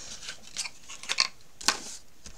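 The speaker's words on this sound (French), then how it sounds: "Je vais quand même gommer, bien que ça ne se verra pas." An eraser rubs across a scrapbook album page in a few short, scratchy strokes, quiet and close, with small gaps between them.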